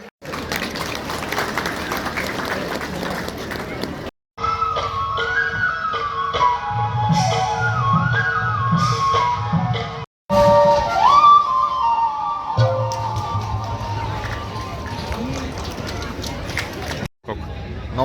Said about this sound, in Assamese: সকলোৱে একাজলি হাত চাপৰিয়ে সকলোৱে সাহস আৰু প্ৰেৰণা দিয়ক